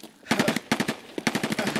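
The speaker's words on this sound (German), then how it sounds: "jetzt höre ich aber in der Nähe die Schüsse da unten" Rapid bursts of gunfire in Escape from Tarkov crack in quick clusters, loud and close, with short pauses between volleys.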